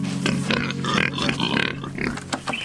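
Pigs grunting and oinking up close, a steady run of snorty calls.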